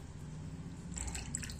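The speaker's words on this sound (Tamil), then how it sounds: "இப்போ சின்ன டம்ளரில் ஊற்றி காட்டுறேங்க." Gooseberry buttermilk is poured into a small tumbler, a brief faint trickle and splash of liquid starting partway through, quiet and alone.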